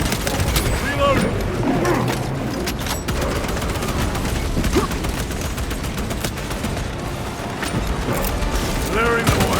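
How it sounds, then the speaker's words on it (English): Weapon reloading amid heavy combat in Warhammer 40K Space Marine II, with mechanical clicks and ratcheting layered over dense gunfire bursts and booms, while a voice speaks over the din. "Reloading."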